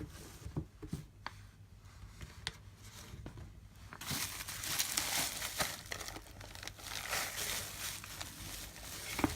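Plastic wrapping peeled off a Day Designer 2018 planner, close, quiet crinkling and tearing with scattered sharp crackles that grow busier and louder halfway through, with no talking.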